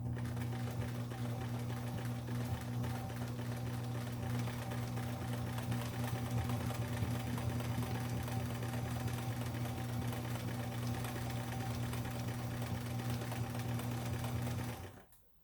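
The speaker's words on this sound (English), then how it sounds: "I'm going to do another zigzag stitch because I'm over that area" Zigzag stitching by a sewing machine across a grosgrain ribbon pull on a zipper pouch: a steady, close, fast mechanical whirr with a strong hum, running without a break for about fifteen seconds before stopping abruptly.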